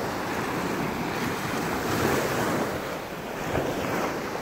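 Steady surf rolls at the Kalanggaman Island sandbar off Leyte, deep water waves rushing in a broad continuous wash with gusty wind noise and slight surges, no one speaking.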